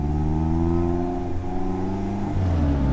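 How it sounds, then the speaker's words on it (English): Brand-new 2015 Mazda MX-5 with a 2-litre engine and limited-slip differential revving hard on track, a loud, close, continuous engine note climbing steadily in pitch through the run, then dipping slightly as it shifts. "this is brand new Mazda MX-5 here in 2-litre spec with a limited slip differential"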